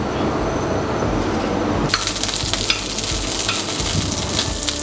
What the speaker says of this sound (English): literally it's a case of just stir frying it, cooking the fish off